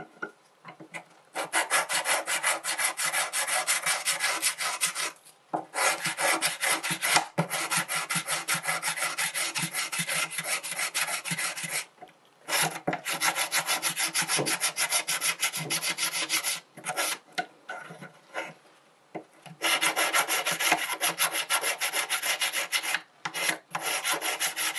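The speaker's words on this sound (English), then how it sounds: "When I'm buffing with my emery stick, I'm keeping it all in one direction." Emery stick buffing a silver cut-out necklace piece, long steady rasping strokes, close and loud, with short pauses between runs and no talk.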